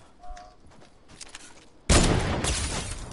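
A sniper rifle firing in a shooter video game, one sudden loud blast that cuts through quieter game sounds and then holds as a dense, noisy roar.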